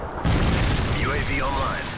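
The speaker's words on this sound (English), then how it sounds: "Friendly Predator missile inbound." Predator missile explosion in the video game Modern Warfare 3, a sudden loud boom followed by a sustained rumbling roar, with a voice speaking and warbling game effects over it.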